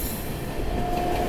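The Dhanbad–LAP Express rumbles in loud and close, a dense rolling roar of rail cars with a thin metallic wheel squeal rising near the end.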